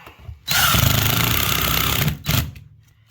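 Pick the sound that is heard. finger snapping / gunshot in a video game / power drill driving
power drill driving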